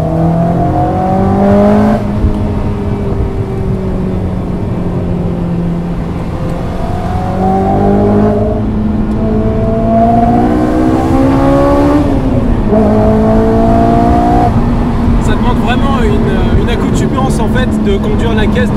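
A Honda S2000 accelerates hard, its engine loud and close as it revs high through several gear changes, each shift dropping the pitch before it climbs again. Voices talk over the engine.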